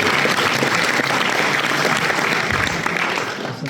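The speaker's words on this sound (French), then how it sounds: "Voilà, monsieur Olivier Boldo, qu'on applaudit très très fort." Loud audience applause at a motorcycle adventure film festival in the Alps, a full, continuous wash of clapping from a large crowd that fades slightly toward the end.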